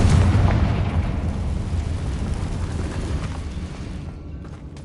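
A Confringo fire spell bursts in Hogwarts Legacy with a heavy, rumbling explosion that hits loud at once and slowly fades away, with no talking over it.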